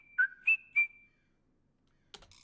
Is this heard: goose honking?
no